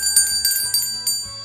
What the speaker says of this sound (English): don't forget to ring that bell with notifications on